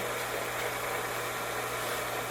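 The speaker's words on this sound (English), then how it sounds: "turn the grinder on" A grinder runs on a reamer sharpening fixture, giving a faint, steady motor hum and broadband whir with a low constant tone throughout and no voices.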